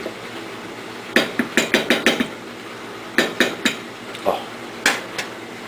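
Cranberry habanero hot sauce being stirred in a pot, with clusters of sharp metallic clinks and knocks of a utensil against the pot in quick bursts, close and fairly quiet.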